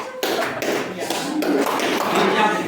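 A classroom 'tepuk diam' clap, quick rhythmic hand claps in a short pattern, close and fairly loud, with voices mixed in.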